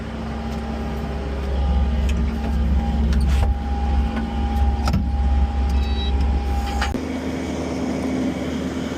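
Fence trucks roll in at a construction yard, a steady low engine rumble with a tonal hum that drops and changes near the end, moderately close, with no talk.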